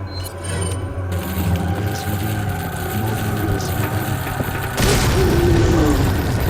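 A grenade blast in Resident Evil 4 on PS4, a loud booming burst rising abruptly over dense game ambience and rumbling, with the impact swelling near the end.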